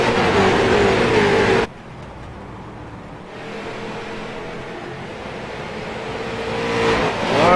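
Race cars roar past on the straight beside the wall, a loud rushing engine wash that drops off abruptly, then a steadier engine drone builds again toward the end.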